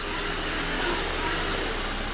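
A 2001 Honda Civic with a 1.5 liter VTEC engine idles steadily in a low, even hum, close by and alone with no talking.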